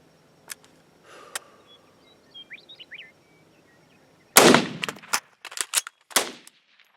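Gunshots from an IWI Tavor SAR bullpup rifle outdoors, a few faint distant reports and chirpy background noise, then a loud close sharp crack followed by several rapid follow-up shots with echoes.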